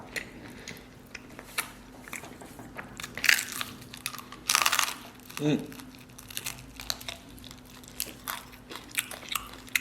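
Biting and chewing on a dry-roasted turkey leg, crunchy tearing and crinkling bites repeating close to the mic, with talking over parts of it.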